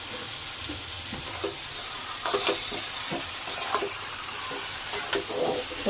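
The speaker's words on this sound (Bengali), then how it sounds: "এই গরম তেলেই মাংস দিয়ে দিলাম" Chicken pieces from a country rooster frying in hot oil in a Bangladeshi home kitchen, a steady close sizzle with scattered crackles and a few louder pops and stirring clatters, no talking.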